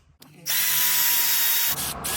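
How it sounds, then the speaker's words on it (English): A power drill drills into a Saturn Vue engine cradle bushing, whirring loudly and steadily for over a second, starting abruptly after a short quiet moment, then dipping briefly before resuming. "This probably wasn't a good idea to drill it"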